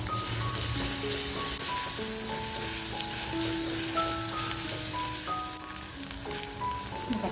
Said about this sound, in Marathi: आता जो कांदा कापून घेतलाय तो कांदा टाकते